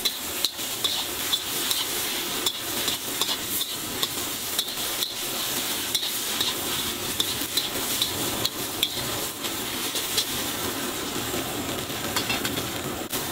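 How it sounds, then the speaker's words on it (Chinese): Rice noodles stir-fried over high heat with a splash of fish sauce, Singapore style, giving a loud, steady sizzle broken by rapid scraping and tapping of a spatula against the pan, close and continuous. "来一圈鱼露，大火快炒，吸出香气"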